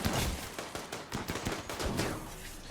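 Rapid bursts of gunfire from a colony firefight in the game Rimworld, shots crackling in irregular clusters at steady loudness throughout, with no talk over them.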